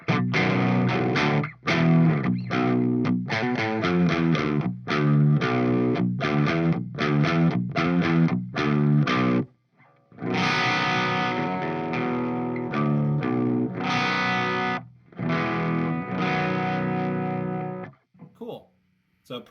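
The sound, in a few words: electric guitar through high-gain amp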